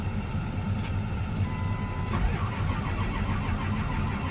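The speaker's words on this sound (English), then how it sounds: "We're gonna try this one more time just to see if there's any changes or if we can get this thing started." A 2005 Ford F250 with the 6.0L diesel cranks without catching, with its glow plugs off and a no-start fault. A steady, close mechanical churn runs throughout.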